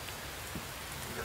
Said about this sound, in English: You got pneumonia out there, pissing rain